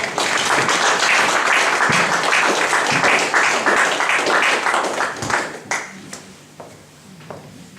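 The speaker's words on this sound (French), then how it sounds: "Nous pouvons applaudir pour la parole de Dieu." A church congregation at a Sunday service applauds after a sermon, a loud, dense round of clapping that holds for several seconds, then thins out and fades to a few scattered claps near the end.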